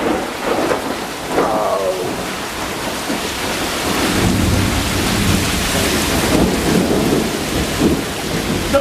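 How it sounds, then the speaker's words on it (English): Heavy rain pouring steadily during a thunderstorm, with rumbling thunder swelling midway, loud and continuous, while floodwater rises around a house; a brief exclamation near the start. "The rain coming up here."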